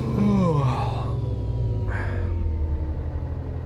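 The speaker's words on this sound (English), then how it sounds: "the first time you hear that yawn sound, especially with headphones" A long, drawn-out yawn from the truck driver in American Truck Simulator, at night in Oregon. It is loud and close and rises then falls, with a steady low truck-engine rumble underneath the whole time.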